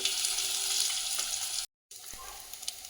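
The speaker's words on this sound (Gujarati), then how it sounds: "એક ચમચી લીલા મરચાં અદરક લસણની પેસ્ટ નાખશું" Green chilli, ginger and garlic paste fries in hot oil in a kadai, a dense, steady sizzle and crackle that runs close and continuous, cut briefly by a short silent gap before the frying resumes.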